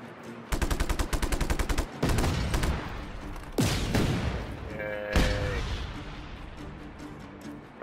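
Gunfire erupts at an enemy base in Just Cause 3: a rapid automatic burst, then heavy single shots and booming blasts with ringing tails, loud and close, no voices over it.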